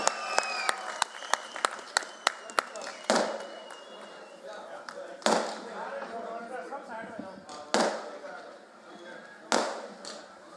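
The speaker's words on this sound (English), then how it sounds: "One big applause for the winners." Crowd applause at a paragliding World Cup awards ceremony, sustained clapping from a gathered audience with a few sharp louder bangs standing out.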